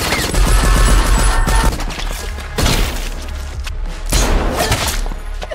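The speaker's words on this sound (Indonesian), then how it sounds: "Tapi tiba-tiba si wanita tersebut menembak Brian." Rapid bursts of gunfire in an action film shootout, loud dense volleys with heavy booming thuds, separated by short lulls and then erupting again.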